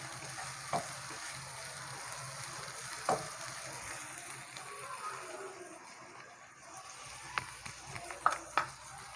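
Chopped onion and green chillies fry gently in a pan, a steady soft sizzle with a few light clicks and taps of stirring.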